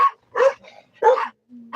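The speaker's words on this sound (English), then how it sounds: "Chica's barking at Kiff." A dog barks outdoors in short, separate yips and woofs, three or four sharp bursts spaced apart, fairly close and clear with quiet gaps between.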